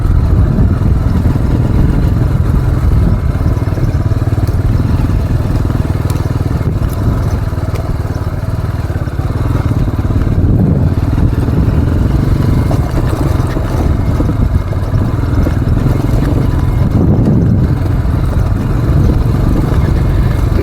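A motorcycle ridden in Crimea toward the Khaphal feathers rock formations: a continuous loud engine drone with heavy wind rumble and road noise, steady for the whole stretch and with no voices.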